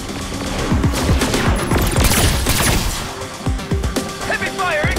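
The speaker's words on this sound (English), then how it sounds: "Heavy fire incoming! Get moving!" Heavy gunfire from the video game Saints Row: Agents of Mayhem fills the scene with dense, continuous bursts and booms, loud and close, with game voices heard over the shooting.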